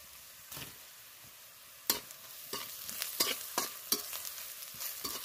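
Vegetables with turmeric and salt frying in a pan for a red lentil and bottle gourd leaf dish, with a steady sizzle broken by several sharp scraping stirs of a spatula, close and moderately loud.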